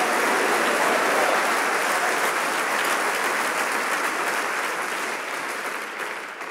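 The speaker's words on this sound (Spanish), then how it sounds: "denle un aplauso fuerte" A church congregation applauds loudly and steadily at a sermon, a dense wash of clapping that holds strong throughout and tapers slightly at the end.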